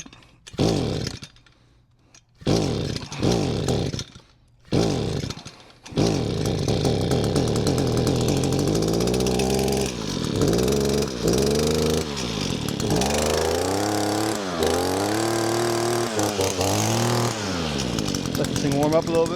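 An Echo SRM 266 two-stroke string trimmer sputters through a few short pull-start bursts, then catches and runs steadily at half choke, its loud buzzing engine note wavering and surging as it settles.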